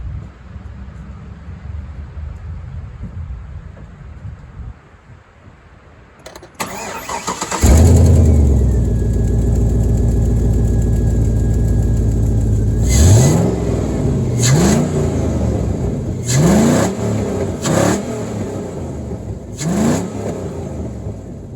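A 2004 Cadillac Escalade engine with straight pipes and a cold air intake cranks and starts after a quiet stretch, roars up loudly, then settles into a steady idle with a few sharp revs.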